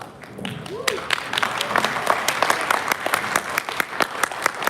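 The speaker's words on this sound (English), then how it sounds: "I think it deserves a round of applause." Audience applause for a school wind band at an international band and orchestra competition, a dense, steady wash of many hands clapping in a hall, sustained throughout with sharper individual claps standing out.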